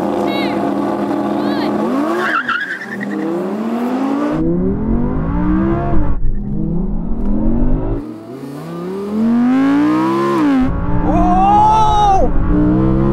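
An Audi R8 launching in a drag race, loud engine revving in rising and falling gear sweeps with sharp shifts, heard under a voice counting down.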